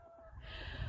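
Bantam chickens cluck in a farm pen, a faint, brief burst of clucking that rises near the end over low background noise.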